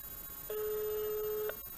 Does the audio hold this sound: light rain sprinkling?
no